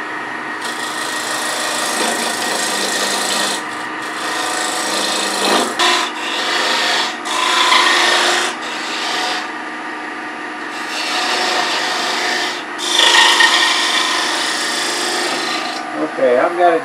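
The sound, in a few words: beading and parting tool cutting square tenon on wood bowl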